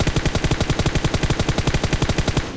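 Rapid automatic gunfire in the mobile battle royale game PUBG Mobile, a fast, loud, even burst of close shots that runs without pause.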